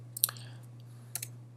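A computer mouse clicks crisply and close up, two quick clusters of light clicks with a low steady hum underneath.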